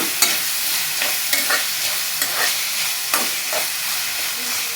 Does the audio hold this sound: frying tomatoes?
yes